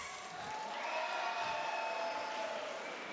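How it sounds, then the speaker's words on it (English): Audience at a women's boxing event applauding and cheering for the winner, a sustained, dense wash of crowd noise holding steady throughout with a faint whistle-like tone above it. "Give a round of applause for Jess!"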